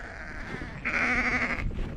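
Sheep bleat outdoors on a farm pasture, a loud sustained wavering bleat swelling up midway over a faint earlier call and steady background noise.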